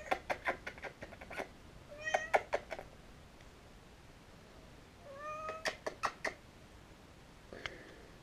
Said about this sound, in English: Hello, my beautiful wanted kitten.